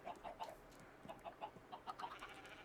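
Chickens cluck in the Minecraft modpack StoneBlock 4: a steady run of short, close clucks and squawks repeating in quick bursts, with no talking.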